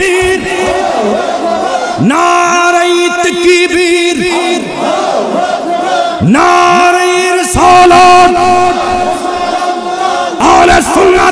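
A large crowd at a Bengali Islamic sermon answers with the takbir chant, loud massed voices shouting in repeated sustained bursts that echo through the gathering.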